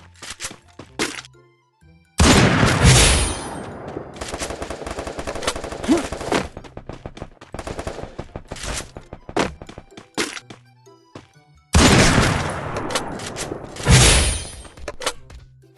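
Sharp, loud sniper rifle shots ring out in the Free Fire video game, arriving as sudden bursts with quieter clicks and thuds between them.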